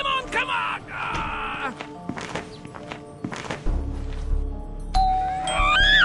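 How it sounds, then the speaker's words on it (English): A doorbell in the video game SchoolBoy Runaway rings out a loud two-tone ding-dong chime, heard once at the start and again near the end, with footsteps, thuds and other game sounds in between. "Okay, now it will be the 12th doorbell."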